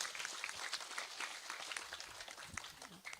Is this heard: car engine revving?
no